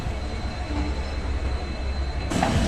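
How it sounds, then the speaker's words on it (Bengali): The Jammu Mail express train pulls out of a platform at Ludhiana station with a continuous close, heavy rumble of wheels and carriages that grows slightly brighter and louder near the end. "এখন পর্যন্ত ট্রেনটি পরিপূর্ণভাবে এই প্ল্যাটফর্ম থেকে বের হতে পারলো না"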